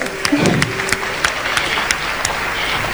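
A small gathering claps in a loose, uneven patter of distinct hand claps that keeps up steadily, while a brief voice or tone sounds near the start.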